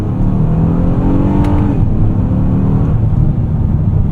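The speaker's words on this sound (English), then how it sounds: "And the V6 does sound good." A 2025 Honda Odyssey minivan's V6 revs hard in sport mode, a loud, steady engine roar that climbs and falls in pitch through gear changes, heard from inside the cabin with no talking.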